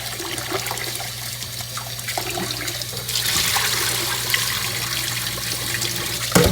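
Running water streams steadily over rice being rinsed in warm water to wash off the starch, a continuous close splashing and trickling that grows fuller and brighter partway through, with no talking.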